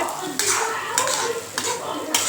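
Thuthuvalai leaves sauté in hot oil with a steady sizzle, while a spatula scrapes the pan in several quick strokes roughly every half second, close and fairly loud.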